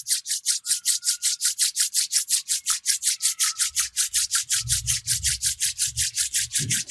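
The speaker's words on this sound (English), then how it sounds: "Rub your palm against each other." Palms rub together briskly to generate warmth during a group meditation, a close, rhythmic swishing of about four to five strokes per second that continues steadily throughout, with a low faint hum entering toward the end.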